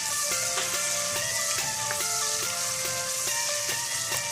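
Onions frying in a hot pot, a steady loud sizzle with tonal clinks and occasional stirring knocks running throughout, no voices.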